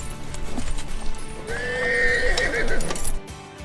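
A draft horse working a vineyard whinnies in one long, loud neigh over the steady clip-clop of its hooves, with no talk.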